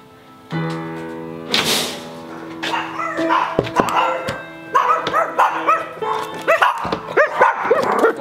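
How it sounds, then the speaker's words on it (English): A dog barks repeatedly at close range in uneven bursts, with yips and a whimpering edge, while a person's voice speaks over it. "Stop barking."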